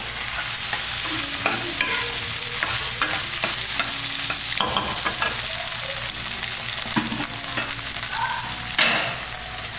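Rice is stir-fried in a hot pan with breakfast sausage and egg, giving a loud, continuous sizzle broken by close scraping and clattering stirring strokes.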